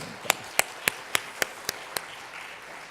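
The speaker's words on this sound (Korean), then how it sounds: "박수 한번 쳐줍시다." Seven sharp, evenly spaced claps ring out in unison from a church congregation during a Sunday afternoon worship service, fairly faint and quick, then stop, leaving quiet room tone.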